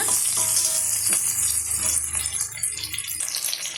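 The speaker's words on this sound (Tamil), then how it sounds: "சேர்த்துட்டு இது ஓரளவுக்கு நல்லா வதங்கி வரட்டுங்க." Onion and garlic sauté in hot oil in a pan, producing a loud, continuous crackling sizzle that stays close and steady for a few seconds with no talking.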